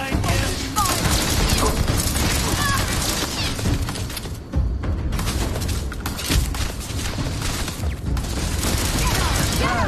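Weapons fire aimed at a turret during a Starfield firefight: a loud, sustained volley of crackling shots and booms that briefly drops out around the midpoint before resuming.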